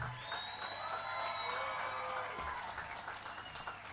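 A high school graduation audience applauds the Board of Education, with scattered clapping and a few whoops carrying through a large space while faint music or tones linger in the background.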